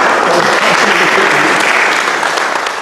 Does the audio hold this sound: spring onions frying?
no